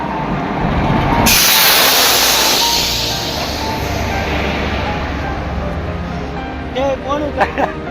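A train pulls in with a loud rushing hiss and heavy rumble, then the noise eases as voices talk over it near the end.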